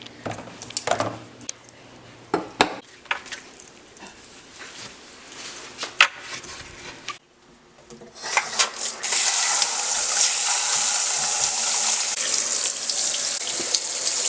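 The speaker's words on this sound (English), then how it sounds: "she has like a shower head that will like come off" Water gushes steadily from a detachable shower head in a home bathroom, loud and continuous after a stretch of clattering and handling noises, with a dog barking briefly.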